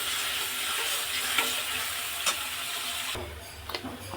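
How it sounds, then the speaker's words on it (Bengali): Dried red chillies and bay leaves frying in oil for a chicken and potato curry, a dense close sizzle with scattered pops and stirring scrapes, softening slightly near the end, with no speech. "লঙ্কা আর তেজপাতা দিয়ে দিলাম। এগুলো লাল লাল করে ভেজে নেবো।"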